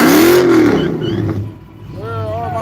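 A Hemi-powered small-tire drag car at a no-prep dragstrip event revs up loudly then fades, with someone talking excitedly over the engine.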